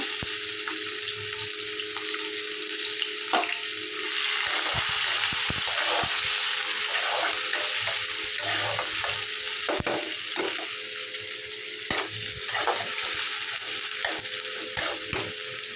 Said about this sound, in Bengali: এর মধ্যে আমি দিয়ে দিচ্ছি বন্ধুরা, দেখো তেলের মধ্যে পেঁয়াজ কুচিটা